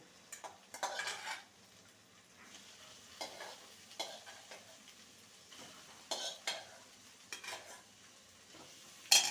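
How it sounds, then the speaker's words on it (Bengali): Spiced winter vegetables stirred in a pan with turmeric and Kashmiri chilli paste, a spoon scraping and clacking in intermittent bursts over a soft sizzle. "ভালো করে মশলার সাথে কষিয়ে নেব"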